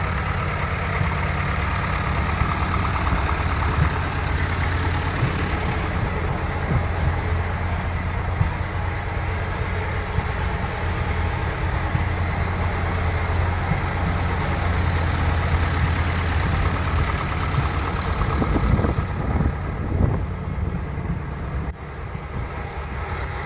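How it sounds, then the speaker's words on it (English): Old diesel engines idling at a pioneer threshermen's harvest festival, a continuous low rumbling drone that holds steady throughout, with faint outdoor background and no nearby talk. "Running mostly the old diesels today"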